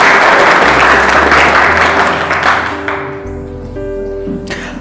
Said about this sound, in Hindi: ताली बजाए प्रभु के लिए।